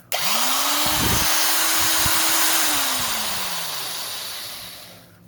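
An old 1974-series Milwaukee half-inch high-torque D-handle drill spins up quickly, holds a steady whine for about two seconds, then slowly winds down and stops, heard close and alone.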